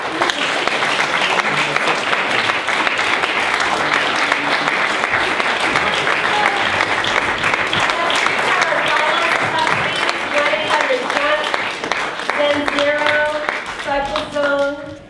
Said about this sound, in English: And as they come up here, I'd like you to applaud them.